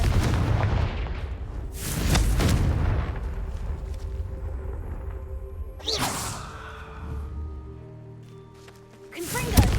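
Confringo fire spells in the game Hogwarts Legacy burst out as several loud booming blasts with whooshing tails, spaced a few seconds apart, the last one closest and sharpest, over a steady background hum of game sound.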